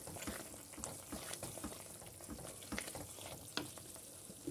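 Masala paste of tomatoes sizzling steadily in a pan as a base for Italian pasta, a close, continuous crackle of frying with occasional stirring scrapes and clicks.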